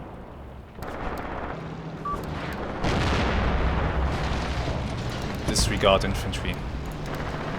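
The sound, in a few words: gunfire and artillery in Graviteam Tactics war video game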